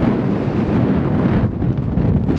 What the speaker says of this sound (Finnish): Tuuli on vaan yltynyt tässä.